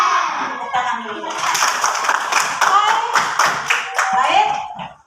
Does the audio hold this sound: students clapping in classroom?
yes